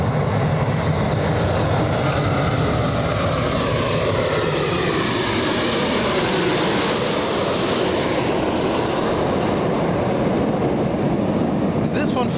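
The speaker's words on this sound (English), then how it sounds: "737 coming in" A Boeing 737 airliner approaching to land at Los Angeles International Airport, its broad jet engine roar steady and loud throughout with a slowly shifting whine as it passes, while people talk faintly over it.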